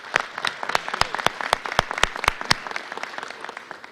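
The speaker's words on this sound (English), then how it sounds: "So can we give him a round of applause?" Audience applause for Governor Pat Quinn during a visit to Franklin Park, a fairly quiet patter of claps with several sharp, distinct nearby hand claps standing out.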